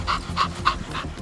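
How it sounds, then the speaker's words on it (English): A hunting dog pants rapidly after a Hungarian partridge and waterfowl hunt in Alberta, with quick, regular breaths about every third of a second, close and clear over faint outdoor noise. "Luckily, Perry's dog is no worse for the wear"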